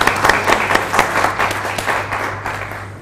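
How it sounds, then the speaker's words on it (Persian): An audience at a live dubsmash performance contest bursts into loud applause, a steady wash of many hands clapping that swells and fades slightly, with no talking over it. "تشویق بفرم."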